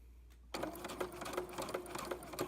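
Home sewing machine running steadily as it stitches across fabric and quilt binding, a continuous close mechanical whir with a rapid needle rhythm that starts abruptly after a brief quiet moment.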